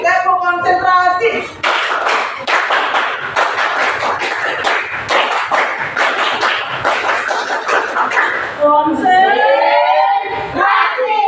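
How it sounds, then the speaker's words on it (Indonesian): A group of people perform the tepuk konsentrasi rhythmic clapping chant in a classroom, sharp hand claps in quick patterned bursts over chanted voices, close and loud, with a leader's voice speaking before and after. "Oke, sekali lagi tepuk konsentrasi"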